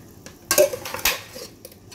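Pork bones go into a pot of boiling water for a pickled mustard green pork bone soup, with two sharp clattering bursts of hard pieces knocking against the metal pot, then quieter scraping.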